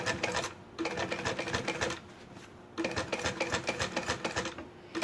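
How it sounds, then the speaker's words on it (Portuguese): A sewing machine stitches a sublimation-printed bag slowly, in bursts of rapid rhythmic needle clatter separated by short pauses, close and clear with no talk. "Costurei, dei retrocesso e venho aqui costurando devagar."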